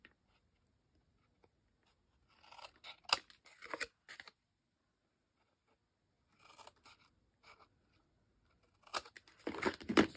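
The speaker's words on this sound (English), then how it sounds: "So rest those scissors up against the chipboard and at a slight angle on all four corners." Scissors cut chipboard corners at a slight angle in short bursts of crisp snipping and crunching, with quiet pauses between the cuts and a louder cluster near the end.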